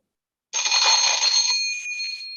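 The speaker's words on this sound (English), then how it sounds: "The final bell will sound like this." A final bell rings at a declamation competition to mark the end of a speaker's three-minute time, a sustained bright electronic ringing that starts abruptly and holds steady, fading slightly toward the end, with no talk.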